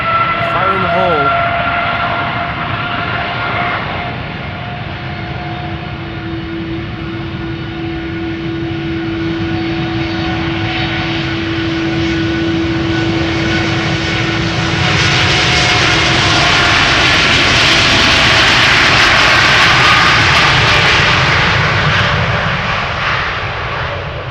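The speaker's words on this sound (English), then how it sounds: "United Airlines flight 908 going to Chicago, 7878 Dreamliner, 9 years old." A nine-year-old United Airlines Boeing 787-8 Dreamliner at Amsterdam Schiphol roars loudly with a steady hum and whine, then swells into a broad, hissing jet blast that peaks late and stays strong to the end.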